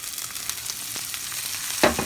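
Green beans tipped into a hot pan give a low, steady sizzle with faint stirring ticks, ending in a louder burst of hiss and clatter, with no voices.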